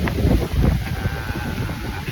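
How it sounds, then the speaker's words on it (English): Strong gusting wind buffets the microphone outdoors as people walk straight into it, a loud, rumbling roar that surges and eases without a break and carries no speech. "this wind is crazy. It's like we're walking straight into it and it's just blowing the shit out of us"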